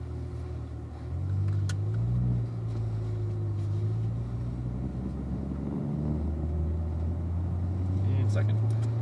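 A car on an oval track in a racing video game, its engine droning steadily and rising as it speeds up, with a voice talking over it.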